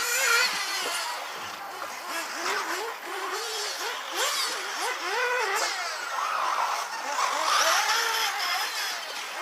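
Several RC truggy cars race around a track at the Corzée 2015 B final, their small motors whining and rising and falling in pitch as they pass, with tire scuffs and a race announcer talking over them.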